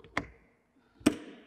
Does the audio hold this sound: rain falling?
no